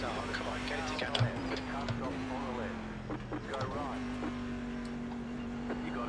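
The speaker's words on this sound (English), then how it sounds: "Really nice engine noise though." A steady engine drone holds one low pitch for several seconds, fairly quiet, with faint murmuring voices and small bumps over it.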